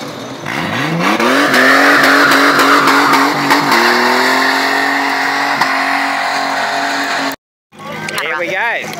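A competition car at a park car event accelerates hard, its engine note climbing through rising revs and gear changes, loud and close, then cutting out abruptly before a quieter, more distant revving follows; voices are heard in the background.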